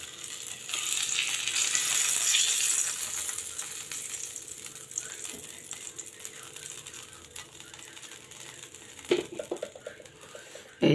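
Eggplant slices fry in oil in a pan, giving a steady crackling sizzle that peaks early, then settles lower. A few sharp clatters of utensils come near the end.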